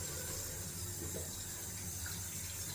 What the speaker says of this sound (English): I'm just washing my hands because it was so slippy of lather.